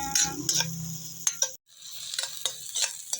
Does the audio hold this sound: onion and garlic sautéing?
yes